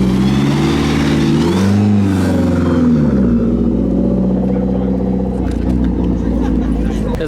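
Widened, modified Mark 1 Mazda MX-5 driving away from a car show, its engine revving up and shifting through rising and falling pitch, loud and close, then fading slightly as it pulls off.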